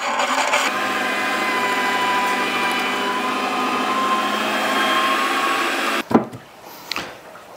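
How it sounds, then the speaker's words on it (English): Electric meat grinder grinding beef and pork through a coarse plate, a loud steady motor whine with a constant tone that cuts off abruptly near the end, followed by a few clunks and handling noises. "we're gonna grind the beef and the pork"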